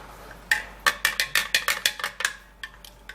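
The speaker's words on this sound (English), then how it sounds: "Stirring it." A spoon stirring a drink in a cup, a run of about a dozen sharp clinks against the rim in quick irregular rhythm, close and clear against a quiet background, slowing toward the end.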